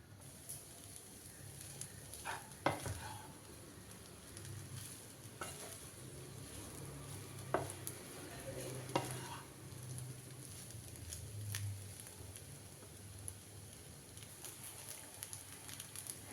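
Spoon stirring cooled basmati rice into a spiced egg fry in a pan, soft scraping strokes and faint sizzle at low level, with a few sharper clinks scattered through.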